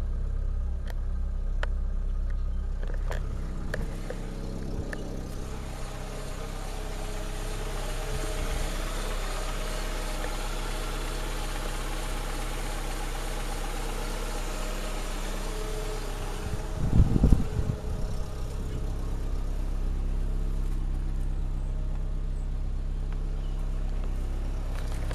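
A 1998 Volkswagen Beetle engine idles steadily after a cold start, a low, even rumble that continues unbroken at moderate loudness, with a brief louder bump partway through and no talking.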